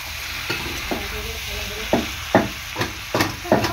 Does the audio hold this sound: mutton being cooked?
yes